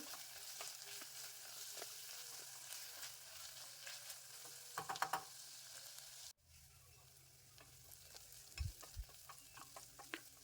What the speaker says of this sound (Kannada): ಹೆಸರು ಕಾಳನ್ನ ಎಣ್ಣೆಯಲ್ಲೇ 1-2 ನಿಮಿಷ ಫ್ರೈ ಮಾಡ್ಕೊಳ್ಬೇಕು.